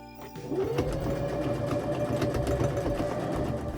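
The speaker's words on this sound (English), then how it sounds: "I went back in and made a few back and forth stitches to the top and bottom of the pockets to secure them." A sewing machine runs back and forth over skirt pockets while stitching a pencil skirt, giving a continuous close mechanical whir with a fast rhythmic needle chatter after a brief quiet start.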